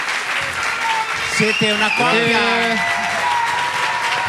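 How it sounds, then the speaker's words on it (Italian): On an Italian TV talent show, a studio audience's continuous clapping fills the background while someone speaks over it in the middle. "Un grande applauso, siete bravissimi, veramente."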